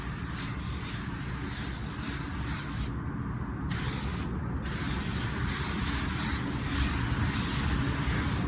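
A paint spray gun hisses steadily as it coats a car panel, blending over scratches next to a bumper. The hiss is loud and close, with two short breaks where the trigger is released.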